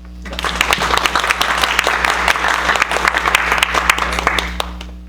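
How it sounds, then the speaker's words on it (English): A lecture audience at a community talk on Alzheimer's disease claps steadily for a few seconds, many hands producing dense, even applause in a room. "let's give him a round of applause"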